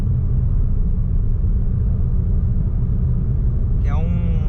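A raised wheel of a Fiat Mobi spins with a worn wheel bearing, giving a loud, steady low droning rumble close by. A voice briefly starts speaking at the very end.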